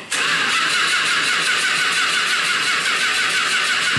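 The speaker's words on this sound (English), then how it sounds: "This is how your car starts." A straight-piped Toyota Tacoma engine cranks and catches, then holds a loud, raspy, steady roar close by for several seconds.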